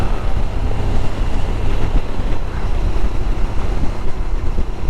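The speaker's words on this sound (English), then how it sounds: "It is windy, but it's a pretty day." Strong wind buffets the microphone in a loud, steady roar with gusty fluctuations while coming down a mountain on a camping trip.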